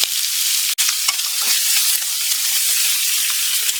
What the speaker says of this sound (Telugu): ఇవన్నీ వేసేసి మనం బాగా మిక్స్ చేసుకుందామండి. ఈ కొంచెంసేపు ఫ్రై అవనిద్దామండి